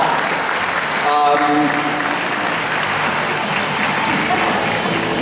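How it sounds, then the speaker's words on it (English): Crowd applause at the C2E2 Crown Championships of Cosplay, sustained clapping and cheering from a large convention audience for a Squirrel Girl cosplayer, with a host's amplified voice briefly heard over it. "Big round of applause."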